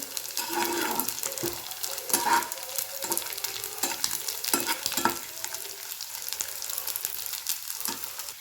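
Shrimp fry in a nonstick pan while being stirred, a steady close sizzle broken by repeated scraping strokes of the spatula, with no one talking.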